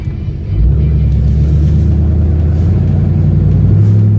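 A 1971 Chevelle V8 engine rumbling loudly and deep, rising to a stronger steady roar after a brief softer start, heard from inside or close to the car.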